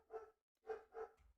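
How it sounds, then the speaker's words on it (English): Dogs bark in the morning, three quiet barks with short gaps between them, distant and faint against a quiet background. "And there the dogs go. They're on schedule."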